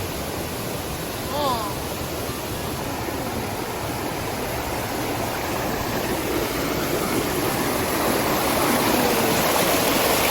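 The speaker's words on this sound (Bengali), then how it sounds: "ফেরত যাওয়ার পথে আমাদের কানে আসলো পানির আওয়াজ এবং মনে হচ্ছিল আশেপাশে একটা ঝর্ণা আছে" A hillside stream flows in a steady, full rushing wash that holds constant and close for the whole stretch, with a faint brief voice near the start.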